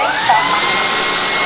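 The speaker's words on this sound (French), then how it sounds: "Et donc là on a le nettoyage de la brosse qui était un petit peu rouge" A Dreame H14 Pro wet-dry stick vacuum-mop running its docked self-cleaning cycle on the brush roller, a loud steady motor whine with a rushing airflow hiss, close and continuous, with no talking.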